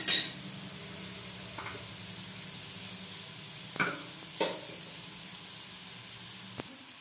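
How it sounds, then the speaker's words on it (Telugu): Onions, green chillies and tomato fry in a pan for puffed rice khichdi, a low steady sizzle under several sharp clinks and scrapes of a spoon against the pan. "దీనిలోనే పచ్చిమిర్చి తరుగును కూడా వేసుకొని ఫ్రై చేసుకున్నాం అండి"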